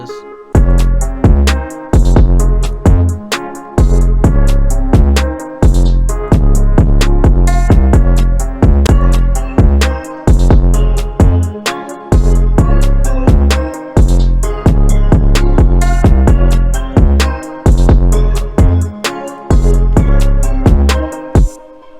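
Hip hop beat with spacey synth melody, open hi-hat and heavy bass, playing loud and steady with a punchy repeating rhythm throughout, no voices.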